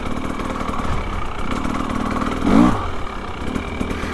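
A 2025 KTM 300XCW Champion Edition two-stroke dirt bike on an off-road ride, its engine burbling loud and close, then briefly revving up for a wheelie before dropping back to a rough idle.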